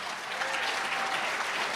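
Steady applause from a convention audience, a dense wash of many hands clapping at an even, loud level with no voices cutting through.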